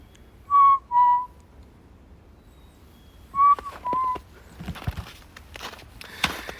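Two-note descending whistle imitating a chickadee, given twice with a pause between, clear and close, followed by rustling and footstep-like crunches.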